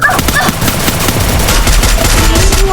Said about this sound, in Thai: ยิงจนกระสุนจะหมดแล้ว